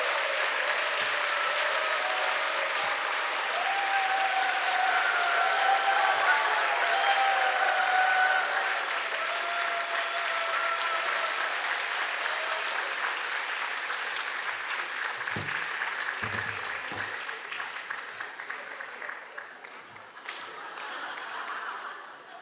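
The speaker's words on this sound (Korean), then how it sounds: "뜨거운 격려 박수 부탁합니다." Sustained audience applause fills a church hall during a testimony gathering, dense steady clapping that rises, holds loud for most of the span, then gradually thins toward the end with a few scattered sounds.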